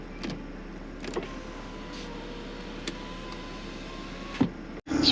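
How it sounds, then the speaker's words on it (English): Power window motor in a BMW E90 328i sedan, whirring steadily as the glass travels for several seconds, close and clear inside the car, ending in a brief thump and pause before a second whir starts. "you're listening for window regulator noise"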